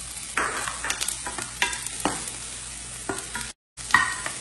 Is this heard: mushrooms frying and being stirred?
yes